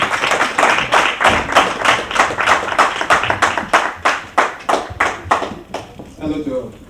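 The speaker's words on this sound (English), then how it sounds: "Please clap for Mr. Botu." An audience claps at a humanitarian organization's gathering, with steady, rhythmic group applause of even beats that thins out and stops near the end.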